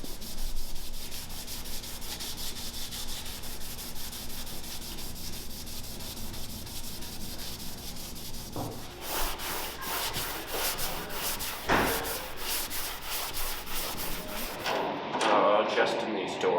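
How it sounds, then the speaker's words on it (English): Abrasive block sanding across guide-coated body panels of a 1969 Camaro, a steady rasping rub running throughout with shifting strokes and a few knocks near the end. "So I'll be block sanding the rest of this."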